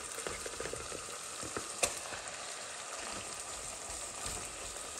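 Chicken mince sizzling steadily in a pan for an achari aloo keema, with a constant hiss and occasional soft stirring clicks, close and moderately loud.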